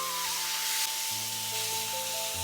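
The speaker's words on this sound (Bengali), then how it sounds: "দিয়ে আবারও ভালোভাবে নাড়িয়ে নেব।" Steady hot hiss of spices and tilapia fish curry frying in oil in a pan, loud and continuous, with a faint tonal hum running underneath and no voices.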